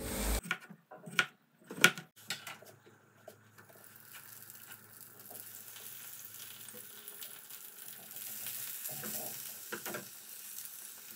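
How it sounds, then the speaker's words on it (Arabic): Potato fingers frying in oil in a pan, a steady faint sizzle building after a few louder stirring clatters at the start, with no talk. "هقطع البطاطس عادي، اللي هو كاني هقليها صوابع، وهقليها فعلا"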